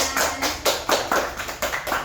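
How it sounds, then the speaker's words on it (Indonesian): A classroom of fifth-grade pupils gives a short burst of applause, about two seconds of quick, fairly close clapping with uneven, overlapping claps. "Beri tepuk tangan."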